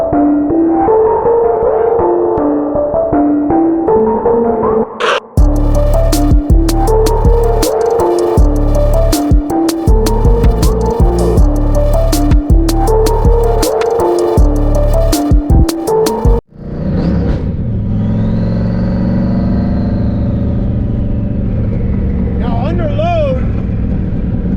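A car fitted with a faceplated Tremec transmission (TKO or T56) drives under load, its engine droning loudly and steadily with harsh, gritty bursts, a sharp drop near the end giving way to quieter road rumble and a rising whine.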